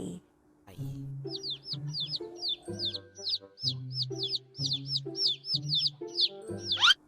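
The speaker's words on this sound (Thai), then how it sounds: "เสียงลูกไก่" Baby chicks peep in a quick run of high, repeated chirps, evenly spaced over a few seconds. They play over a soft, tonal backing melody.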